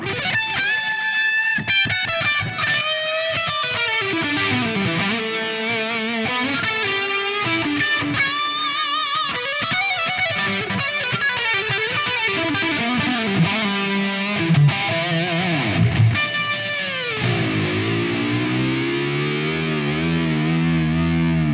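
Electric guitar with chorus switched back on, playing an 80s-style tone, driven and distorted with shimmering modulated harmonics, sustained lines and chords ringing steadily and loud, no voices.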